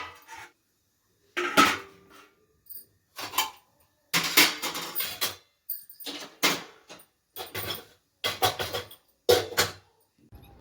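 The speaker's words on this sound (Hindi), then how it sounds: "उसके बाद से धुलते हैं बर्तन" Dishes and utensils being washed at home, giving repeated close clatters and clinks of metal and crockery in irregular bursts separated by short pauses.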